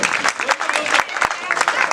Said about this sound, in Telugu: చప్పట్లేదు గట్టిగా ఉండాలి కదా